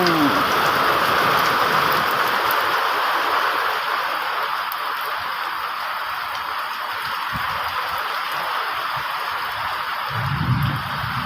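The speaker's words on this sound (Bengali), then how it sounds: "মাঠে কিন্তু বৃষ্টি শুরু হয়ে গেছে" Steady rain falls on an open field in a rural village, a dense continuous hiss of drops spreading evenly throughout, with a brief low rumble near the end.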